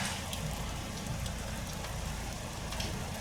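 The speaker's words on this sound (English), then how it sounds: "As you can see, there's no let up from the rain." Steady rain falls outside a home in the UK, a soft continuous hiss with no letup and no voices.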